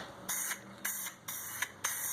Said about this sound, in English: So I go within a good distance and I spray.